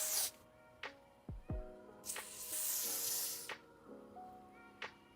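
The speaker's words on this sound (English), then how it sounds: "I'm going to use just a little bit of spray adhesive and go along my skin" Several short hissing bursts of spray adhesive from an aerosol can, applied to skin for a wig install, close and fairly quiet, repeated in quick succession with small handling noises between.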